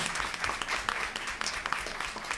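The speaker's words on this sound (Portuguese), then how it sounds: "salve Negro Gum, uma salva de palmas" Audience applause at a Brazilian commission session on Afro-Indigenous culture and combating discrimination: a steady, dense wash of many hands clapping in a hall, fairly loud and continuous throughout.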